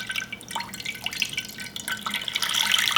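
Water drips and patters onto a shoe treated with protector spray, a series of small irregular splashes close by that grow denser and slightly louder toward the end, with no talking.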